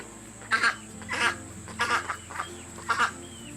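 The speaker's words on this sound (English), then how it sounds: "look at where all my chickens are. They're all under the building." Backyard chickens clucking outdoors, a series of short, fairly close clucks and squawks in irregular bursts, with quiet ambient background between calls.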